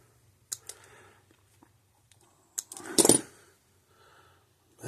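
Wires cut with a cutter while repairing a Gallagher S15/S17 solar-powered electric fence charger: a few sharp isolated snips and clicks, then a short denser burst of clipping and rustle, close up in a quiet room.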